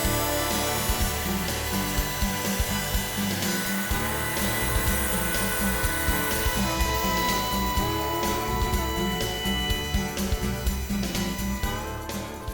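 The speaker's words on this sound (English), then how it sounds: "I'm using a roundover bit on my handheld router." Handheld router fitted with a roundover bit shaping the edges of a wooden cornhole board, a steady loud high-pitched whine with grinding cutting noise running continuously throughout.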